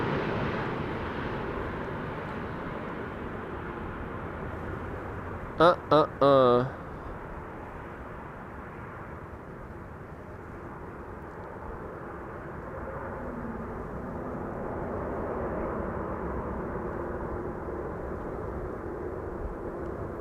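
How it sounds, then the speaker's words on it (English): ITA Airways Airbus A320neo, flight 108, arriving from Rome: a steady, broad jet roar that swells gently through the whole stretch, with a brief burst of electronic beeps early on. "ITA Airways, don't want to miss it. A320neo, flight 108, arriving from Rome."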